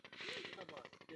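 Rapid, steady mechanical putt-putting of an old engine-driven village flour mill, a fast regular knocking pulse that fills the whole stretch, fairly close and quite faint.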